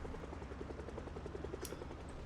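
A helicopter in a zombie video game gives a steady rhythmic rotor chop under a broad noisy wash, moderately loud and continuous, with no talking.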